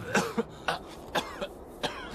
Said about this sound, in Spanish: Tienes una tos muy fea.